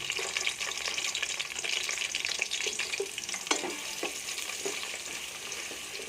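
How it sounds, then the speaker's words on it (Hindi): A continuous bright sizzle of onions frying in oil, with soft stirring scrapes now and then, heard up close without talk. "प्याज़ों को 2 से 3 मिनट इसको भूनेंगे।"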